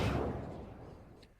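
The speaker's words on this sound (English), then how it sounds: "Can we get some gunshots for that one?" A single loud gunshot-like blast at the start, its booming tail fading away over about a second.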